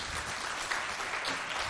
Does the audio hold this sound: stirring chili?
no